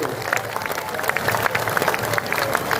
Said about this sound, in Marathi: माऊली टाळ्यांचा गजर झाला पाहिजे.